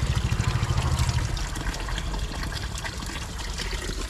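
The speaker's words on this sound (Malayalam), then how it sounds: "ഇതിൻ്റെ കുറച്ച് വെള്ളം തന്നെ എടുക്കാം" Cold stream water running and trickling in Kashmir as some is collected, a steady close liquid rush filling the whole stretch with no voices.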